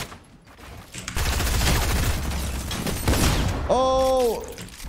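Rapid sustained minigun fire in the Fortnite video game, a loud continuous mechanical rattle lasting several seconds, followed by a short rising and falling tonal game effect.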